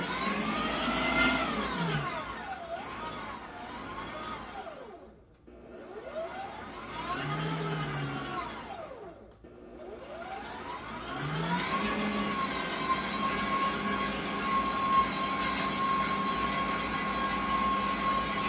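An electric mixer beats tea cake batter in a bowl, its motor whining steadily and changing pitch as the beaters move, dipping twice in brief lulls before running on loudly and continuously.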